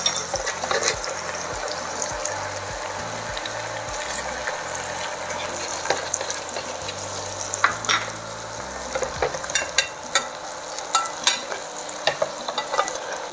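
White asparagus and serrano ham cooking in a pan, a steady close-up sizzle and fry with occasional stirring clinks and scrapes throughout, low bubbling underneath, no talking.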